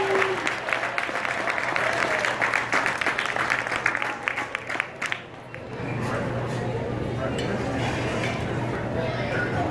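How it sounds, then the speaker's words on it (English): Applause from the crowd at a sports awards ceremony, dense close clapping that thins and fades midway, leaving a quieter room murmur behind. "Give them another round of applause."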